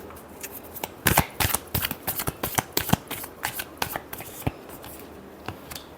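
Tarot cards being shuffled by hand in a burst of crisp, rapid riffling clicks and flutters, close and fairly loud, then thinning to a few scattered taps.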